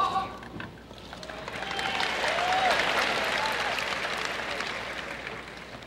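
A tennis crowd at the 1982 US Open final, Connors against Lendl, breaks into applause for a fan. The clapping swells to a sustained, dense patter and then slowly fades, with a commentator speaking faintly over it at the start.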